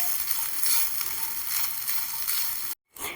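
Grated coconut, half of a small coconut, dry-roasting in a pan gives a steady, close hiss of sizzling with soft stirring, broken by a brief gap near the end.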